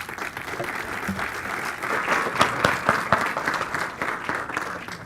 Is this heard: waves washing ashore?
no